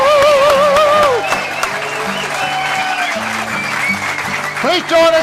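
Audience at a vaudeville revue applauding and cheering, with whoops and voices over steady clapping, and piano music underneath.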